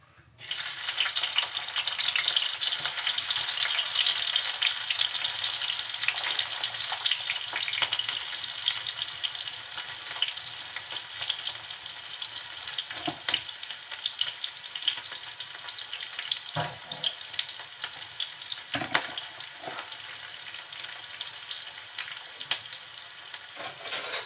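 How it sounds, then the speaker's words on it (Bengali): Chopped onion and green chili sizzle in a hot pan for a potato fry, with a steady loud hiss throughout and occasional stirring scrapes, close up and without voices. "প্রথমে চুলোটা জ্বালিয়ে একটা পাত্র বসিয়ে দিয়েছি গরম হওয়ার জন্য এখন দিয়ে দিচ্ছি পেঁয়াজ কুচি আর কাঁচা ঝাল"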